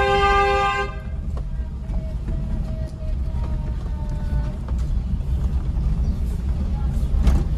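A car horn honks for about a second during slow half-clutch driving in first or second gear through narrow lanes, then a steady rumble of engine and road noise continues.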